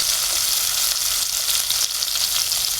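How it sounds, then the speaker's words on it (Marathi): Cumin and mustard seeds crackle and sizzle in hot oil in a pan, a steady close, loud hiss that runs unbroken throughout, with no voices over it. "तेल आपलं तापलं आहे त्याच्यामध्ये आपण जिरं राई टाकूया"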